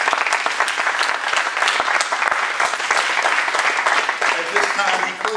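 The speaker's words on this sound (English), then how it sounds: "let's give the Lord a hand clap for using our dear pastor" A church congregation claps for the pastor, a dense sustained round of applause that runs steadily from start to finish at close range, with a few voices mixed in.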